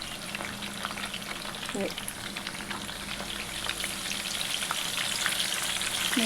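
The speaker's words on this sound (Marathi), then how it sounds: "तेल पण बऱ्यापैकी गरम झालेलं आहे आता आपण थोडं थोडं करून वेफर्स सोडून देऊया" Banana wafer slices sizzling in hot oil, a dense continuous frying crackle that gradually grows louder, close up with no voices.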